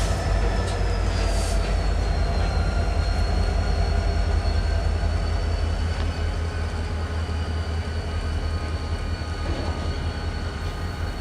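A Union Pacific SD40N locomotive slowly moves a local train through a small rail yard in Camden, Arkansas, producing a steady low diesel rumble with rolling car and wheel noise and faint squeals, moderately distant and continuous, without voices.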